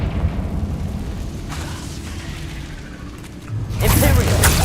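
A Confringo fire spell blasts in Hogwarts Legacy, a loud booming explosion that swells near the end over a steady game soundscape with low rumbling, the burst landing close and heavy.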